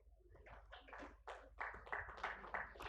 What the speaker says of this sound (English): A huge round of applause as we thank all our speakers.